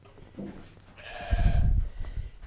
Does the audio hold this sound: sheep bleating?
yes